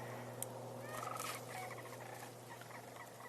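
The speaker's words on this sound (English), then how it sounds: "Okay, I'm hearing the cranes," Cranes calling in the distance on an autumn outdoor tour, a brief burst of trilling, rattling bird calls over steady low background noise, heard alone without talk.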